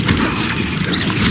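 An Incendio fire spell is cast in the video game Hogwarts Legacy, giving a dense, loud, continuous rush of booming, crackling blasts that fills the whole moment without a break.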